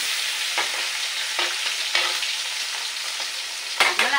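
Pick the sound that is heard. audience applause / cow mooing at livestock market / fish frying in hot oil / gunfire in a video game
fish frying in hot oil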